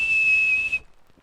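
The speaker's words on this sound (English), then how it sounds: "Thomas and Toby whistled." A steam engine's whistle blows one steady, shrill blast, loud and alone, for under a second and then cuts off abruptly into near silence.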